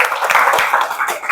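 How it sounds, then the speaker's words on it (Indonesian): Classroom of students clapping together briefly after a classmate's answer, a short burst of rhythmic handclaps, fairly close and lively. "Oke, betul. Tepuk tangan."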